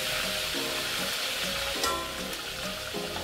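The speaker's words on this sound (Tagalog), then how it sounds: "Prito natin to." Two chicken pieces deep-frying in plenty of oil, a loud, constant close sizzle with light bubbling and faint scrapes throughout, no talk.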